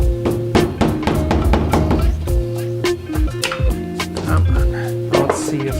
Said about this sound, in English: this end of a hammer is kind of like a chisel